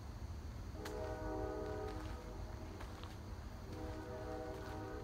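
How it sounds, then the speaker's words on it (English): A train horn sounds in long, steady blasts over the rumble of a passing train, fairly distant and muffled, with faint clanks between the blasts. "Do you hear that train?"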